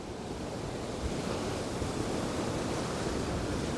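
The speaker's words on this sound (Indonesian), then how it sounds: "ombaknya luar biasa Cak, besar sekali" Large ocean waves roll in at Batu Naga beach, a steady broad roar of surf and wind that sounds distant yet full and never pauses.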